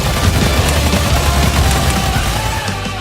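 Gunfire from the Battleborn video game, a dense continuous fusillade of shots and booms layered with rumbling action effects, loud and sustained throughout with no pauses.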